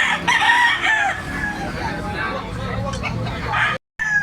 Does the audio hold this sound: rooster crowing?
yes